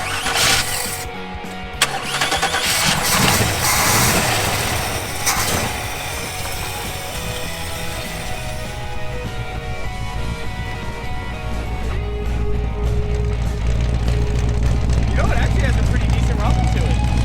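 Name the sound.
1956 Chevy Bel Air engine starting and running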